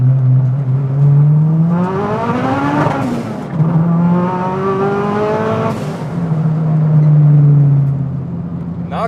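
A turbocharged Honda Civic hatchback with a big turbo, street legal, revs hard from inside the car. The loud, close engine climbs in pitch through repeated upshifts with short breaks between pulls.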